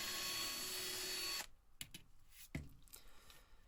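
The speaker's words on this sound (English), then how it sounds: "Now we have to drill out the remaining 4 of the base plates" A power drill bores out the riveted base plate of a die-cast Matchbox toy, a 1918 Crossley or Wildlife Truck, with a steady loud whir for about a second and a half before it cuts off, leaving faint scattered clicks.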